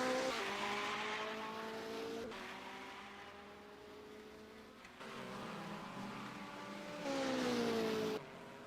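Race car engines in a racing video game, with a tyre lock-up skid and squeal over steady engine drone during a Daytona 6 Hours endurance race, pitch rising and falling as cars brake and accelerate.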